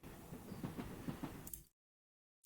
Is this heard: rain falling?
no